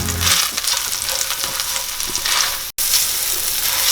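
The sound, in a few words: ginger and garlic frying in a pan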